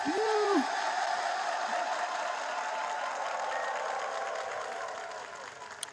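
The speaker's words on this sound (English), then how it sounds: "Can we give some round of applause and confetti for Bubbles, please?" Crowd applause with some cheering at a Pride Month musicians' showcase, a broad steady wash of clapping that slowly fades toward the end, with a brief voice near the start.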